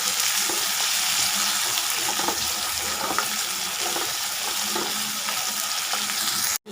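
Tomatoes sautéing in a pan give a loud, dense, steady sizzle close by, with faint stirring knocks underneath, ending abruptly.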